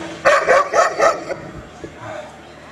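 A dog barks four times in quick succession at close range, loud and sharp, followed by a softer whimper or yip as the sound fades.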